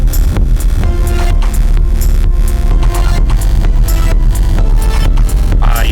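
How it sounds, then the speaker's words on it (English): A dense, loud, dark industrial techno loop built in FL Studio, with a pounding kick on a steady four-on-the-floor pulse and a rumbling, distorted bass underneath. The texture is continuous and driving, with no talking. "And then a little bit more just pure kick and bass."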